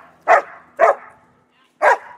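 A protection dog doing bite work barks three times in sharp, loud, close bursts, with a short pause before the last bark.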